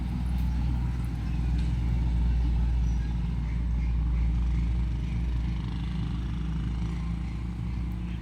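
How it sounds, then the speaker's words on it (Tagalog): Heavy road traffic with big vehicles such as trucks and buses rumbles past close by, a loud, continuous low engine drone that swells and fades slightly over several seconds. "Daming mga malalaking sasakyan dito."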